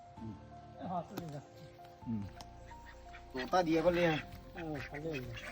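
A small domestic duck in a backyard quacks repeatedly in short, nasal bursts, with a louder cluster in the middle. The quacks sound close, and human voices mingle with them.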